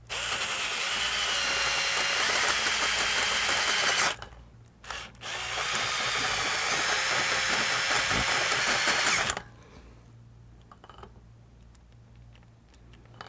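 A power drill runs loud and steady for about four seconds, stops briefly, then whirs again for several more seconds before cutting off, leaving a quiet room with faint handling noise.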